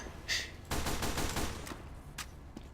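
Bursts of gunfire from the Team Fortress 2 video game, a short sharp shot followed by a rapid volley of overlapping shots and a few fainter ones trailing off, loud and with no talk.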